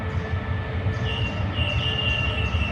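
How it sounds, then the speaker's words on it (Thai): Ordinary train number 201 at Bangkok railway station, a loud, close rolling rumble with steady wheel noise and a high metallic squeal rising from the rails, with no voices. "เดี๋ยววันนี้เรามาชมขบวนรถธรรมดาที่ 201 นะครับ"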